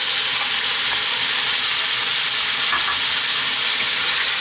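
Potatoes and onion frying with cumin seeds over lively heat in a pan, a loud, close, continuous hiss and crackle of hot oil that stays steady throughout, with no voices.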